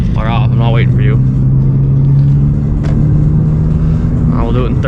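Steady, loud engine drone and road rumble as a 2017 Honda Civic Si gets onto a highway, holding one pitch through the middle, with someone speaking over it at the start and end.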